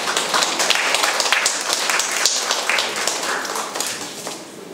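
Applause at an art exhibition award ceremony in a gallery, steady dense clapping from a crowd filling the room, fairly close and continuous, fading slightly at the end.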